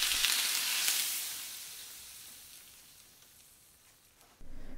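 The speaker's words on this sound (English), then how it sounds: "Then also pour the very hot oil." Very hot oil poured over a plate of steamed ginger fish fillet with soy sauce sets off a loud, bright sizzle that slowly fades over several seconds, followed by a brief clatter near the end.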